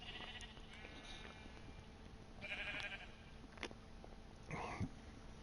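Sheep in the Minecraft video game eating grass off a grass block, heard as a few short bleats and munching calls spaced apart, faint and quiet against a low steady background.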